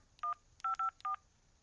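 Touch-tone telephone keypad dialing: four short, clean DTMF beeps in an uneven rhythm, one then a quick run of three, heard close and alone with no ringing.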